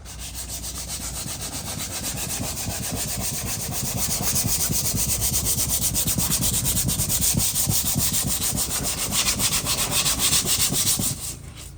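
Steady rhythmic rubbing strokes of wet sandpaper scrub back and forth against a Volkswagen Golf Mk5 part, close and continuous, then stop abruptly near the end.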